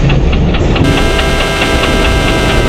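A WDM 3D diesel locomotive hauling the Shatabdi Express pulls into Mumbai Central in the Indian Train Simulator game, a steady loud engine rumble with faint rhythmic wheel clicks throughout.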